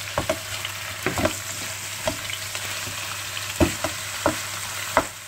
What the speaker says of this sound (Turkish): Kıymamızı aldık tavaya.